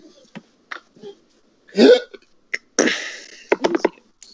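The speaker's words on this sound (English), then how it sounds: "I hiccup when I don't eat them after a while" Several hiccups from a person on a Christmas animatic livestream, short sharp bursts spaced irregularly across a few seconds, close and fairly loud, with a longer breathy burst in the middle.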